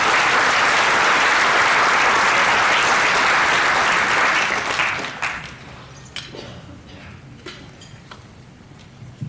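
Audience at a charity luncheon bursts into loud, dense applause that holds steady for about five seconds, then thins out to scattered individual claps fading over the remaining few seconds.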